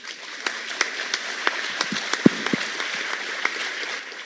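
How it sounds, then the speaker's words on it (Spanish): Sparse audience applause at a national infrastructure congress in Colombia, scattered individual claps and a few louder sharp hits over a soft room hiss. "muchas gracias y un aplauso para ella, por favor."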